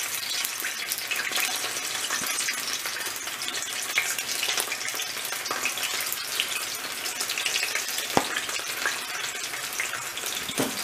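Potato pieces frying in about half a finger of oil in a Teflon pan give a steady, dense, hissing sizzle close by, continuous and even with no talking.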